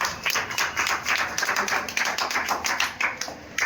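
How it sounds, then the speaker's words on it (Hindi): A crowd at an Independence Day celebration claps rapidly and steadily for several seconds, a dense patter of many hands applauding in a room with no talking. "इनके लिए ताली बजाइए"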